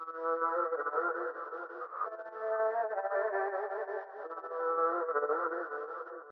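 A dark ambient vocal sample drenched in pitch shifting and delay, its level chopped into uneven rhythmic pulses, plays alone as a smooth harmonic layer for about six seconds.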